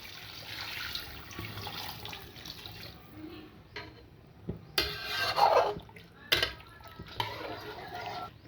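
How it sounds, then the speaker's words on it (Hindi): Water poured from two glasses into a pan of beef karahi, uneven splashing and gurgling bursts with brief pauses between pours over quiet kitchen background. "2 गिलास इसमें मैं पानी डाल रही हूँ।"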